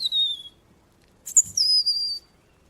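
Thin, high whistled European robin notes in short phrases separated by silence, clear and fairly close, with no talking.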